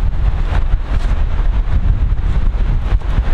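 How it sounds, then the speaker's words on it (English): Strong gale-force wind blasting across an abandoned airfield, a loud, continuous roaring buffet that pounds the microphone in uneven gusts, with no voices. "I don't know if you can hear that wind or not"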